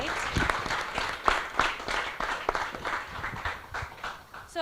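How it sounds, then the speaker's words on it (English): An audience at an evening architecture talk gives a warm round of applause to welcome the guests, with dense, steady clapping from a full room lasting throughout. "give a warm round of applause to welcome our guests tonight."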